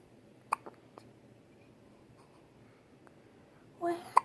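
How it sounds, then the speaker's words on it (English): A baby in a hospital hiccups, with short, sharp, faint hiccup clicks spaced apart in a quiet room, followed by a brief soft vocal sound and one last louder hiccup. "cutest little hiccups"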